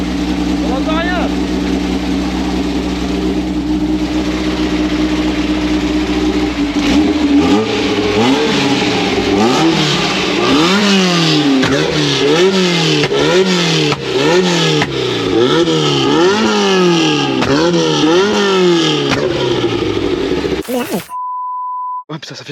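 A loud 800 kg, 240 hp autocross car engine idles roughly, then revs hard again and again in a rising-and-falling rhythm, close by, with voices underneath. A short electronic beep closes it.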